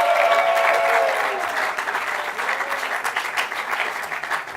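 A commencement audience for a global jazz master's program breaks into applause, full dense clapping with a voice briefly audible at the start, gradually thinning out.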